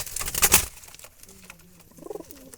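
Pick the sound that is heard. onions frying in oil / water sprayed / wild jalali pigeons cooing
wild jalali pigeons cooing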